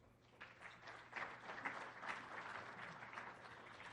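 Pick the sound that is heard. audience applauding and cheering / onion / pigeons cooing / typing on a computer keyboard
audience applauding and cheering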